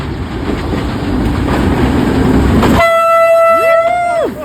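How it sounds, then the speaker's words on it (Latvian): A train passes with loud rumbling and clatter of rail cars, then a long, sustained multi-tone horn blast sounds close by and fades as the rumble cuts out, during an enduro road trip to Bulgaria. "iekāpām vilcienā iekšā"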